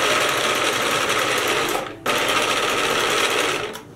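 A sewing machine runs steadily, stitching fabric for a themed pillow, its whirring drone continuous and close. There is one short pause near the middle before the stitching picks up again.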